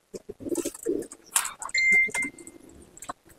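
Malwai pigeons at a loft give short coos and quick wing flaps, mixed with clattering handling noises, all fairly close.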